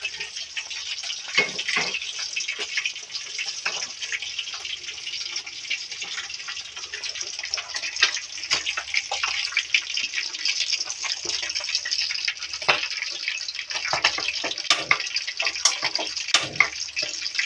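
Water pours and splashes continuously for a long stretch, a steady hissing trickle with occasional louder gushes and drips, close by.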